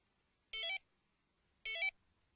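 Delkim TX-i Plus carp-fishing bite alarm beeping while being programmed: two short, clear electronic tones about a second apart, each a brief two-pitch beep, close and isolated against near silence.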